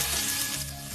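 Minced garlic and dried chilies frying in hot oil in a wok, a dense, close hiss of sizzling over one brief second with no voices.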